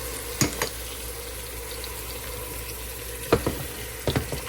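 Ginger garlic paste fries in a pan for a chicken curry, giving a soft, steady sizzle. A few sharp clatters from stirring break in near the start and again toward the end.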